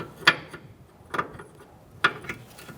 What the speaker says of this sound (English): we're going to use a 24mm wrench